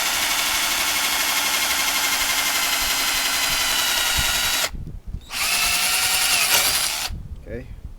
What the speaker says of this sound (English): Okay, drill it out.